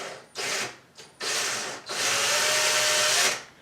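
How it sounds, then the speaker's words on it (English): A power drill bores slowly through a wooden cabinet door for hardware, with two short bursts of whirring and then one longer sustained run before stopping. The sound is close and loud. "So open the door and then drill very slowly through."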